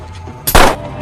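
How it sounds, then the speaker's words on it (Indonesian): A single loud gunshot cracks out in a crime action film, a sharp sudden blast after a quiet lead-in that fades quickly. "temannya Ovi ditembak"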